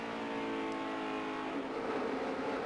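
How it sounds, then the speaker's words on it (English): A NASCAR race car at the 2009 Lifelock 400 drones at high revs and then eases off the throttle, so its tone drops and softens, heard from a distance over constant track noise. "Boy, you heard him breathe the throttle."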